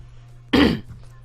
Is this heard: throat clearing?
yes